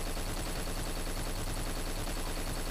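Rapid automatic gunfire in a shooter video game, a dense, loud continuous burst of shots filling the whole stretch with no pauses.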